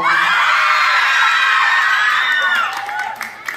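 Crowd at a Miss Gay San Roque 2023 pageant in Capalonga, Camarines Norte, shrieking and whooping loudly in a sustained high-pitched roar with excited screams, easing off near the end as a few shouts trail away.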